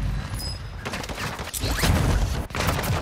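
Gunfire in the video game Warzone on the Vondel map, a dense stretch of shots and combat noise throughout with a sharp crack near the middle, loud and close.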